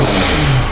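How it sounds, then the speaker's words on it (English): A Lifan KPT 150 motorcycle fitted with a new BMC air filter, its engine running loud and close in a brief burst that sounds like revving, with no voices. "I'm first starting my motorcycle."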